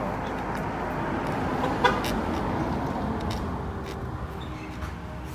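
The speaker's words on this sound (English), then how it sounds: "One of my neighbors driving by." A neighbor's car passes by on a residential street, a steady broadband rumble of engine and tire noise throughout with a brief horn-like toot near the start.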